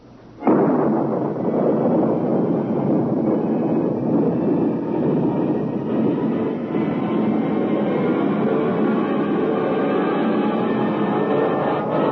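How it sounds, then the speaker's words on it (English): A rocket blast-off sound effect from a classic sci-fi radio drama: a sudden roaring ignition followed by a sustained, loud rumbling thrust that continues unbroken for over ten seconds. "countdown for blast-off. X minus 5, 4, 3, 2, X minus 1,"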